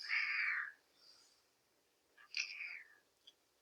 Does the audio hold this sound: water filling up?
no